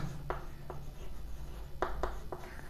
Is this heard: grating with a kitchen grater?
no